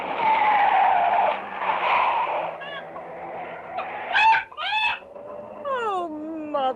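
Radio drama effect of a car skidding and a hen squawking: a loud rushing skid with a whining engine gives way to sharp, rising squawks and a descending cry, close and prominent.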